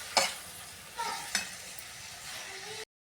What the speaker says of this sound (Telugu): ఇప్పుడు కొంచెం కొత్తిమీర కూడా వేసుకొని టమాటా మంచిగా ఉడకనివ్వాలండి